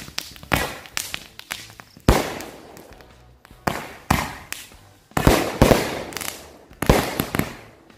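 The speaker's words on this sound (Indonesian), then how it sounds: "ini dia mercon Roman Candle-nya. Kita cobain di sini." Repeated sharp explosive bangs from a Roman candle firework on New Year's Eve, about eight bursts spaced irregularly over several seconds, each with a crackling tail, loud and fairly close.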